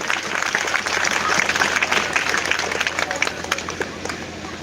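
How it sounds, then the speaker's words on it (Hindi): An audience at a business seminar in Gujarat breaks into loud, dense applause that carries on for several seconds, with a voice faintly audible underneath. "गुजरात के लोग यार ताली बजाओ तो ताली की तरह बजाओ"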